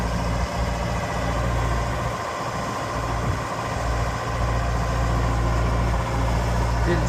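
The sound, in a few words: 2006 Genie GTH844 telehandler running while tilting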